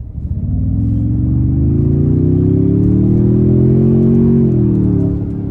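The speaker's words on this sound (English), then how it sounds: "Now I'll put in a sport here and we'll give it a little pull." A 2025 Toyota Tundra i-FORCE MAX TRD Pro with twin turbos accelerates hard in sport mode, its engine note rising steadily and loudly for several seconds before easing off, heard from inside the cabin with no talk.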